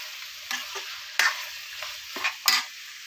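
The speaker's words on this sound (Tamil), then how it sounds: "தண்ணி ஊற்றாமே நம்ம எண்ணெயிலே வேக விட்டாச்சு." Chicken pieces fry in oil without water while a spatula stirs and scrapes the stuck bits off the pan bottom, giving four or five sharp scraping strokes over a steady sizzle, close and fairly clear.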